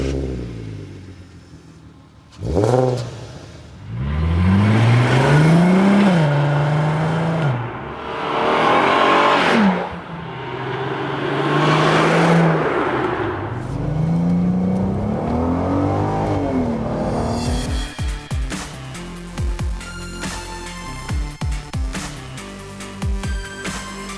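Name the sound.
VW Golf Mk4 R32 VR6 six-cylinder car driving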